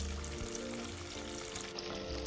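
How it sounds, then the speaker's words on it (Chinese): Sliced jicama deep frying in a batch in oil heated to 170–180°C, giving a steady, dense sizzle and crackle that stays even throughout, close up with no voices. "再分批下鍋，炸至表面金黃酥脆"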